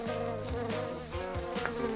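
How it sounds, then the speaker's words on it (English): Steady buzzing of insects hums throughout, with tonal drones shifting in pitch as they move around, set against a busy background. "bees are here. They're buzzing."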